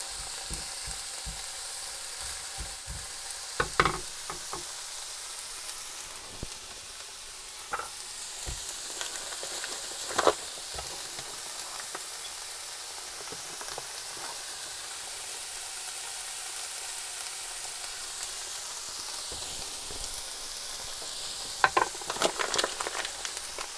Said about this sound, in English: Keep gently frying